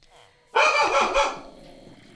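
A puppy barks loudly and close by, a short burst of sharp barks with a growly edge, while a person talks over it.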